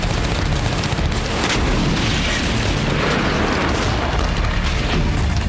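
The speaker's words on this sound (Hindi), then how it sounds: "वोरोनिश में भी यूक्रेन ने कई धमाके किए।" Explosions from Ukrainian strikes in Voronezh, Russia, heard as a dense, continuous roar of booming blasts and rumble at high loudness, with no clear gaps between them.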